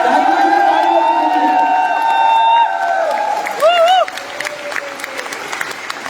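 A crowd at a corporate celebration speech claps and cheers in a sustained wash of applause, with whistle-like tones riding over it that fade to scattered claps toward the end.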